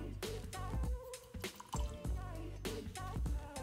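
Water is poured and dribbled into a container for watercolor painting, a close series of splashy trickles and drips in uneven bursts.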